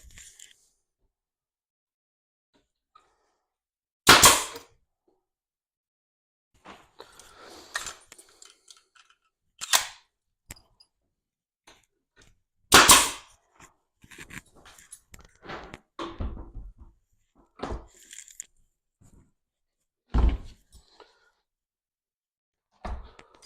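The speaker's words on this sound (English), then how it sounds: "On the brad gun along the top. A few sticking brads." Brad nail gun driving brads into a model railway layout baseboard: a few sharp, isolated pneumatic snaps spaced seconds apart, with quiet handling clatter and shuffling in between.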